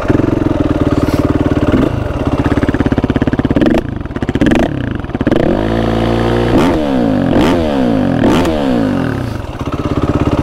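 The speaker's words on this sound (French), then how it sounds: "Il chante bien le FMF." A quad engine with an FMF exhaust and its baffle fitted revs hard and close. Its loud, raspy blips climb and drop repeatedly, with sharp throttle stabs between stretches of sustained high revs over roughly ten seconds.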